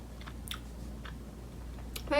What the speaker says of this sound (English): it's very, very chewy, so I'm still just chewing through it.